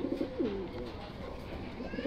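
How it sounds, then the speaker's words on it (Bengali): A pet pigeon gives soft, close cooing calls in short, repeated phrases, fairly quiet against a low background hum. "এই হচ্ছে কবুতর"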